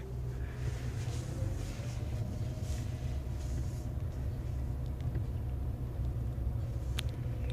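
A car reverses with a steady low engine rumble that holds constant and fairly close throughout, with a few faint clicks near the end.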